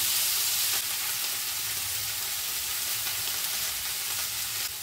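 Mixed leafy greens hitting hot oil with black cumin and ginger, a loud, steady close-up sizzle and crackle that stays dense throughout with no talking.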